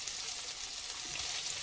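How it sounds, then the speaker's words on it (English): Onions cooking down in a pan for old-school southern potato salad, giving a steady, soft, even sizzle with no break. "we're just going to let these onions cook down a little bit"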